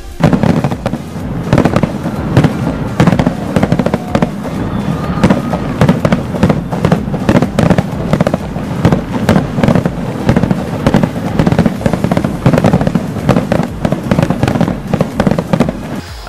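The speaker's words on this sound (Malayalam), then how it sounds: "ദുബായിലെ വിവിധ സ്ഥലങ്ങളിലായി നടന്ന ഗംഭീര വെടിക്കെട്ടും ഇത്തവണ മേളയ്ക്ക് കൂടുതൽ ആവേശം നൽകി" A fireworks display at the 2014 Dubai Shopping Festival, with rapid, continuous booms and crackles, dense and loud throughout, with no pauses and no voices.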